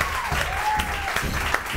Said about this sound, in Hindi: तो उनके लिए बहुत सारी तालियां होनी चाहिए।